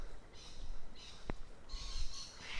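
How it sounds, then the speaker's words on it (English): Birds call in short bursts in a quiet forest at Mount Tamborine, high chirps and twitters coming and going, with a faint low rumble beneath. "As you can hear, there's a lot of bird life."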